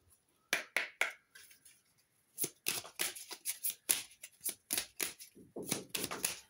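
Tarot cards are shuffled for a reading, close and quiet, first a few sharp slaps, then a run of rapid, evenly spaced riffling flicks, with no speech.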